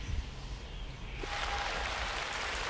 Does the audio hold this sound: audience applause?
yes